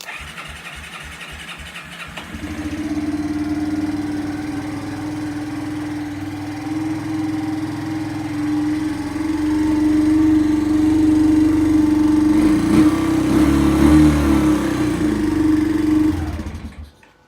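A Kawasaki Bayou ATV engine cranks with a rapid chugging, catches and settles into a steady loud idle, rising to a rougher, busier run before cutting off abruptly at the end.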